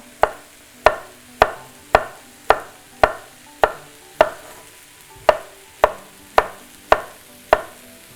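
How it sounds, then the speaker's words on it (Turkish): Knife chopping zucchini on a cutting board, about a dozen sharp, evenly spaced chops in a steady rhythm, close and clear, no voices. "Bunları doğramaya devam edeceğim."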